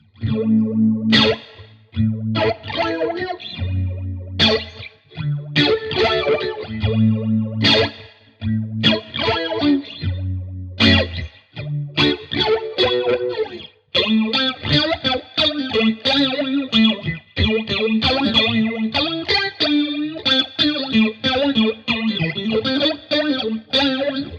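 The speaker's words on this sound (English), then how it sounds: "we're going to get a much more vocal phaser sound" Electric guitar through a Zander Circuitry Junipero modulation pedal's phaser set to high feedback, a swirling, vocal-sounding sweep, played in loud chords and riffs with brief pauses, then a denser sustained passage.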